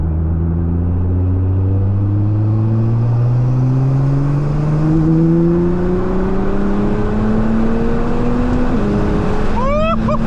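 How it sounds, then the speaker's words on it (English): Nissan R35 GT-R accelerating hard, engine note rising steadily through the revs with a turbo whistle above it, then a quick shift and a sharp whine at the end, loud and close from inside the car. "The little turbo whistling in your ear,"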